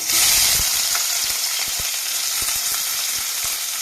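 Chopped onion dropped into hot oil with five-spice seeds, a loud, continuous crackling sizzle close by with sharp spattering pops scattered throughout and a brief stir at the start.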